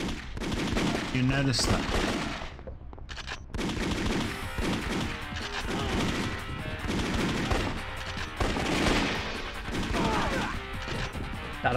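Dense, continuous gunfire from the PS1 action game VIP starring Pamela Anderson, loud bursts layered over game sounds while someone talks over it.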